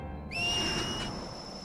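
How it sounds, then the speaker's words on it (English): One shrill whistle in Final Fantasy X-2 swoops upward and sustains for most of a second before stopping, loud and clear above a soft background hum. "And it will whistle."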